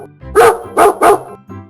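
A dog barks three times in quick succession, loud and close, with a softer yip trailing after, heard alone without any talk.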